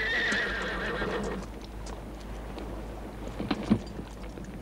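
A horse whinnies loudly with a high, wavering neigh at the start, then its hooves clip-clop in a few uneven thuds at close range, with no talking over it.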